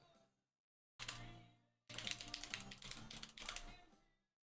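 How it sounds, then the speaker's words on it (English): Keys clacking on a computer keyboard in two short bursts of close, busy typing separated by a brief pause, with no talking. "let me just type it"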